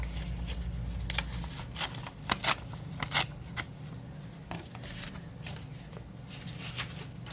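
Paper being torn by hand for a flip-out journaling pocket, a few short crisp rips and rustles close up, separated by quieter handling noise.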